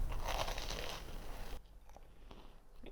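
Crisp biting crunches into Zivania apple pie roll-ups, a burst of dense crackling bites and chewing up close that stops abruptly halfway, leaving quieter faint mouth sounds.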